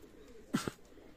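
Pakistani high-flyer pigeons in a loft give a quick pair of soft coos, faint against a quiet background.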